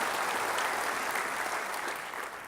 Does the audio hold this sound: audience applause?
yes